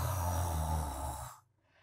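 A sleeper snores loudly in a Hindi comic-book narration: one long, rough, rumbling snore fills most of the moment, then cuts off into near silence.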